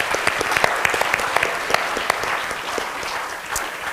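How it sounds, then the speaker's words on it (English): Lecture audience applauding at a constitution lecture series event, many hands clapping in a fairly dense patter with a few sharper nearby claps standing out, steady and loud, fading slightly toward the end. "let's give them a round of applause."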